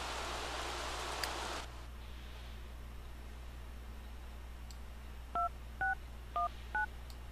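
A phone being dialed in The Sims 3 on a rainy Halloween day: a soft hiss of rain opens, then four short two-tone touch-tone beeps sound in quick succession near the end.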